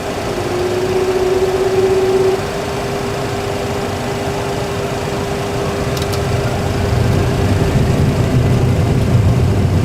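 Boeing 737 engines spooling up to takeoff thrust in a flight simulator, a loud steady engine roar with a sustained droning tone that holds level throughout, no talking.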